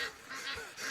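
Repeated honking Egyptian goose calls, a few loud, harsh blasts rising and falling over about a second, fairly close with no talking.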